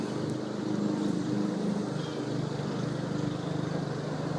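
Lawnmowers drone faintly in the distance, a steady low engine hum with no break in a quiet outdoor setting.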